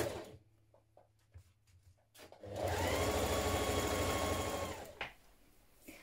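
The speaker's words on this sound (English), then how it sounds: "we're going to stitch this in place down the seam line" A sewing machine runs in one steady, loud burst of stitching, sewing a pocket in place down the seam line of a shirt dress, after a few quieter handling clicks and stopping abruptly with a final knock.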